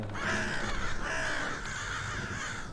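A seagull gives harsh, drawn-out calls, loud and close, in two long cries with a brief dip between them and no talk over them.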